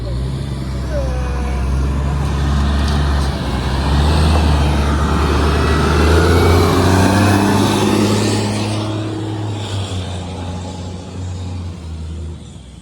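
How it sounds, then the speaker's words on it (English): A heavy cement truck rumbles past on a road, its deep engine drone building to a close, loud peak before slowly fading away over several seconds. "Waited for the truck to get by."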